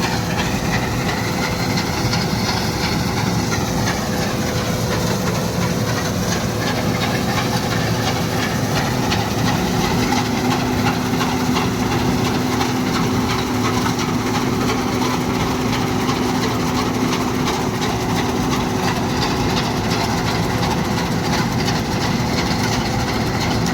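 A harvester machine's engine runs steadily during soybean harvesting, a loud continuous drone with mechanical whine and hiss close by, unbroken and without talk throughout.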